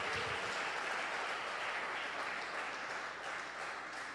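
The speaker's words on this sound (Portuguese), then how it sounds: "Pode aplaudir o Senhor, glória a Deus" A Pentecostal church congregation claps and praises together, a dense, continuous wash of applause filling the room, steady and fairly close, easing off a little toward the end.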